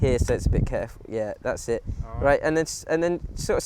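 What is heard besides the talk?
No everyday noise stands out behind the speech.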